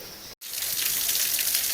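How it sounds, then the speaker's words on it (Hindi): Mountain waterfall water at an ashram cascades over large rocks in a steady, bright, hissing rush, close and continuous after a brief cut near the start. "ये मूर्ध्वज आश्रम के झरने का पानी है जो निरंतर झरझर की आवाज़ करता हुआ"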